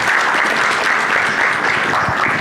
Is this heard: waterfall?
no